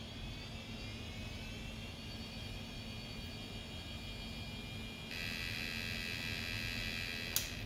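A struggling Conner CP30544 hard drive spins with a steady, faint whirring hum and high tonal whine. The sound gets a little brighter partway through and ends with a brief click.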